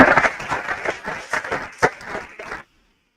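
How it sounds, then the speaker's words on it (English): Applause from an audience at an international conference arrives as uneven bursts of clapping that thin out and stop abruptly, leaving silence at the end. "A big round of applause."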